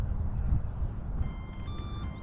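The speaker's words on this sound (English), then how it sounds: "I have no idea what the beeping means." Steady electronic beeping from a Piper J-3 Cub RC airplane, a sustained tone pattern entering partway through over a constant low rumble of motor and wind noise.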